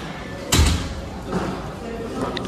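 At a reopened commuter rail station in Indonesia, a fare gate opens after a card tap-in with one sharp thump, followed by a softer mechanical shuffle under steady station ambience and distant chatter.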